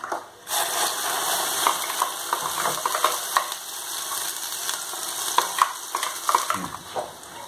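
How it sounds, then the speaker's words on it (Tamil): Cinnamon, cloves, cardamom and fennel seeds fry in hot oil for a gravy, giving a close, continuous crackling sizzle broken by scraping stirs. "ஆயில் விட்டுருக்கேன். ஒரு சின்ன துண்டு பட்டை, 1-4 கிராம்பு, 1-3 ஏலக்காய் போடுறேன், 1 டீஸ்பூன் சோம்பு."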